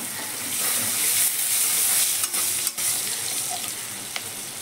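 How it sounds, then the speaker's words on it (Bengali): Bay leaf, cumin and chopped onion sizzle in hot oil in a pan, with a steady loud frying hiss broken by a few clinks of stirring. "এখন সোমবার দিয়ে দেব তেজপাতা, জিরে, পেঁয়াজ কুচি দিয়ে নাড়বো।"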